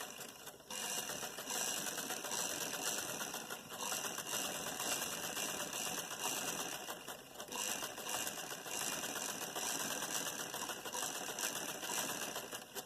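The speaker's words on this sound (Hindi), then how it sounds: "लाइनिंग का हिसाब जो है हम 1 फुट के हिसाब से रख करके इसको सिलाई भरना शुरू करेंगे।" A sewing machine stitches lining into a poncha-style salwar hem, running steadily and close without pause, a continuous fast mechanical rattle after a brief quiet start.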